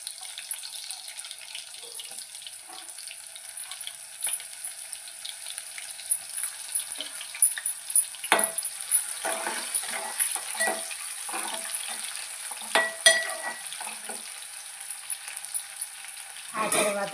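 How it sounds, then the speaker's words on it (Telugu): Chopped onions hit hot oil with browned mustard seeds and cumin, giving a steady light sizzle with soft stirring scrapes and a few louder clatters, close by and without speech. "ఆవాలు జీలకర్ర బాగా బ్రౌన్ కలర్లోకి వచ్చాక ఇప్పుడు ముందుగా కట్ చేసి పెట్టుకున్న ఆనియన్స్ యాడ్ చేయాలి"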